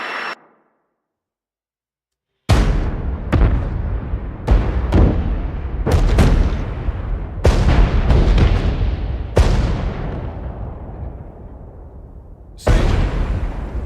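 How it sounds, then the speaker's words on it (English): A bombing run in the FPS game Stellar Gate: after a brief silence, a rapid series of loud, booming explosions strikes one after another, each decaying into rumble before the next, about a dozen blasts in all. "I think it's like 30 seconds of just pure bombs."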